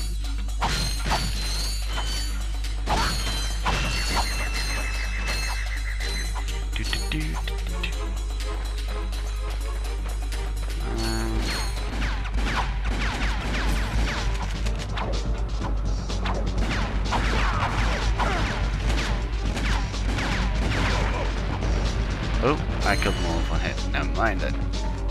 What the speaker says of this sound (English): Smashing crates like Zelda with his bushes.